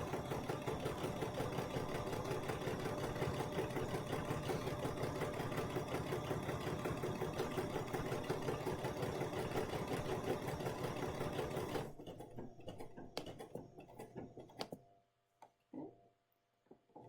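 A Bernina sewing machine runs continuously at a fast, even stitching rhythm for about twelve seconds, then slows in a few brief spurts before falling quiet, close and without talk.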